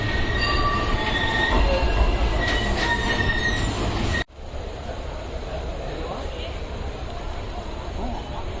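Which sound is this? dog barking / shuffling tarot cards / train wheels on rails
train wheels on rails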